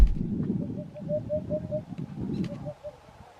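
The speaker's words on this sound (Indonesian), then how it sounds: "Burung hudhud Eurasia," A Eurasian hoopoe calls with two runs of soft, hollow, evenly spaced 'oop' notes over a low background rumble.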